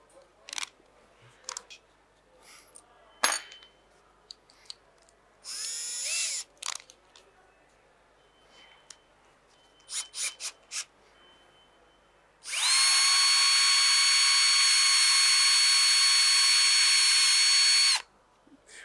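Bosch power drill boring into melamine board, a loud steady high whine lasting about five seconds near the end, preceded by scattered clicks, handling knocks and a brief motor test burst.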